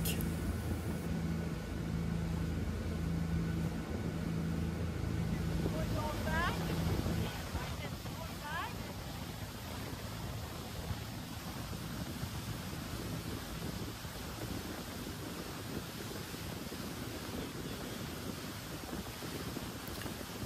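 A motorboat planing against a 3 to 5 knot headwind current on the Great Lakes, a loud steady engine and hull drone mixed with wind buffeting the microphone, with a voice talking over it.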